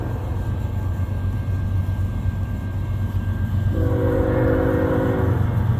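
A CN freight train, M302 at Ladysmith, Wisconsin, rumbles steadily past up close with a continuous heavy roll, and a loud horn chord sounds near the end.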